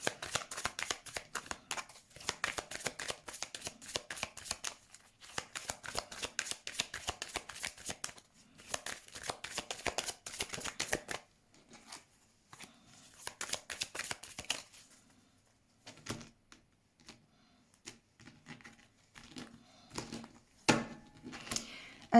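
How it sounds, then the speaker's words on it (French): Tarot cards shuffled by hand for a reading, a dense run of crisp riffling and flicking bursts with brief pauses, then softer, sparser slides and taps toward the end, close and without talk. "Allez, on va faire le tirage."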